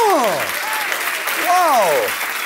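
Steady crowd applause runs through the whole stretch, with two swooping, falling voiced exclamations rising out of the clapping.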